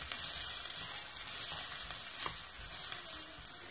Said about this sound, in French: dans un petit filet d'huile d'olive, je vais commencer avec les oignons